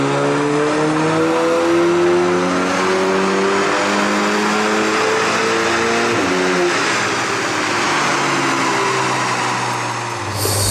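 Tuned Audi S3 with a DSG gearbox revving on a dyno, the engine note climbing steadily through repeated rising sweeps with a gear change near the middle, loud and close before dropping off at the end.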